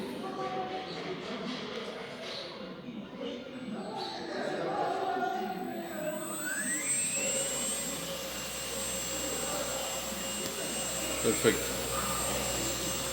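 An electric vehicle conversion kit motor, switched on through a 12-volt relay, spins up under throttle into a rising, steady electric whine that settles at a high, even pitch, with a brief spoken word over it.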